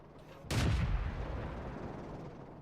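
A tank's main gun fires in World of Tanks, a sharp loud blast at about half a second followed by a long rumbling decay with no talking over it.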